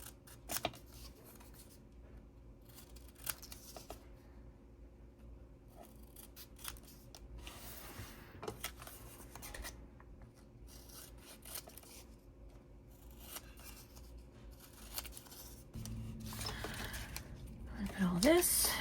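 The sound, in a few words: scissors cutting paper for mosaic journal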